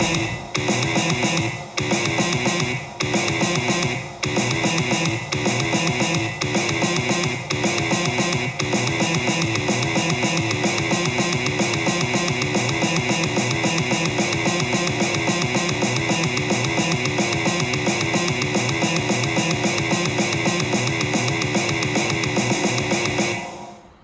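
Mathcore metal composition plays back loud and dense, with distorted guitars and drums forming a continuous wall of sound punctuated by sharp, irregular stop-start hits early on, then sustained and unbroken.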